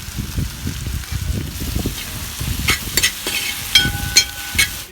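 Curry leaves and onion sauté in a pan with a crackling sizzle and repeated low stirring scrapes, bright ladle taps and clinks toward the end, no speech.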